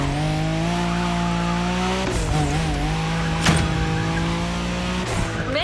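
A car in The Crew Motorfest racing game drifts, its tires squealing over a steady, droning engine with a brief rough burst in the middle. No voices are heard.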